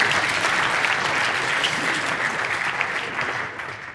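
A large audience applauds steadily at a Wembley speech after a recitation of pi, a dense, continuous wash of clapping that holds strong throughout and eases slightly toward the end, with no voices over it.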